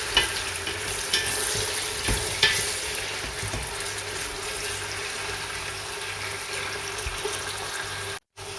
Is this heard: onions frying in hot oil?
yes